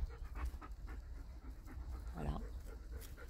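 A dog pants steadily in quick rhythmic breaths, close but fairly soft, with a brief murmur of a voice partway through.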